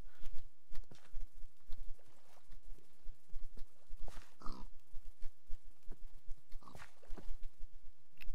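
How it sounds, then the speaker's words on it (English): Pigs in the Minecraft 1.8 video game give short, repeated grunts scattered through the clip over steady game background sound, with no talking. "And there's another pig right there."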